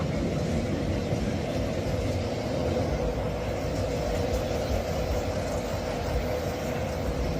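A steady, heavy rumble of a train rolling along near Bang Sue railway station in Thailand, constant and loud throughout with no voices, just the continuous drone of wheels and carriages.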